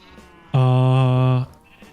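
A sheep at a shepherd's hut in a Minecraft MineColonies colony gives one loud, close bleat lasting about a second, a buzzy wavering cry standing out over a quiet background.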